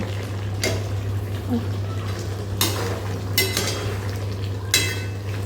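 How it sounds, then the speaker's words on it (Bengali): Potato curry (aloo dum) with fresh coriander leaves is stirred in a pan: a few scattered scrapes of the spoon over a soft simmering hiss and a steady low hum. "এবারে আমি ধনে পাতাগুলো অ্যাড করে দেবো লাস্টে দিয়ে আর এক মিনিট আমি নেড়ে চেড়ে নিয়ে এটাকে নামিয়ে দেব"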